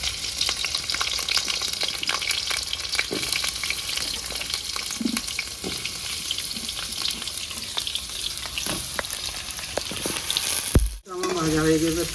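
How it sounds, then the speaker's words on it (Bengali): Potatoes frying in hot mustard oil in a home kitchen wok, a steady dense sizzle that crackles continuously throughout, with a brief clatter near the end. No talking. "হালকা করে ভেজে নেবো, তেলটা গরম হয়ে গেছে,"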